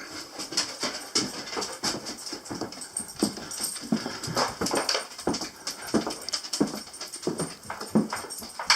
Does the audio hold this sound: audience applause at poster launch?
no